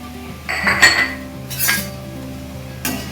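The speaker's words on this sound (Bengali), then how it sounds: "এর মধ্যে 1 বাটি জল দিলাম, তার সাথে এই 1 বাটি চিনি।" Metal bowls clink and knock against a pot on a gas stove as a bowl of water and a bowl of sugar go in to make syrup: a few sharp, bright clatters close by.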